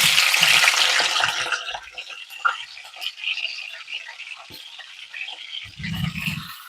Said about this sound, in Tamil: இப்போ வந்து நம்ம வாழைக்காய் அதில் போட்டு வறுக்க போகிறோம்.